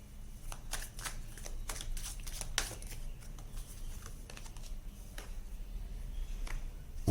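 Tarot cards handled and shuffled close up, a soft rapid riffling and flicking with quick papery taps, quiet and alone.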